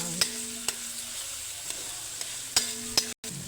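Tomatoes sautéing in a pan for a patola and sotanghon dish, a quiet steady sizzle with a few sharp clicks of a utensil tapping the pan and a short dropout near the end.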